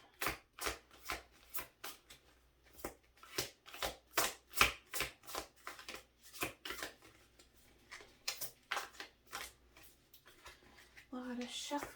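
Steady, rhythmic shuffling of tarot cards up close, repeated snaps and slides in quick succession, with a short voice near the end.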